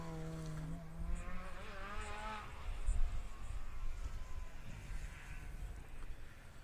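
A modified Ford Escort rally car drives a forest stage at Glendaruel, its engine note climbing and revving at a middling distance over heavy, rumbling outdoor noise.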